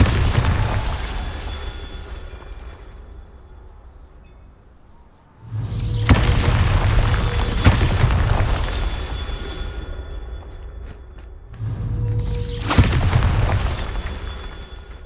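In the Hogwarts Legacy game, the Bombarda exploding spell goes off as deep, loud booming blasts. Three big bursts arrive several seconds apart, each rumbling and then trailing off with debris crackle.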